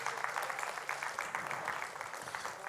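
A church congregation claps together in steady, sustained applause, heard faintly from a distance with no clear speech.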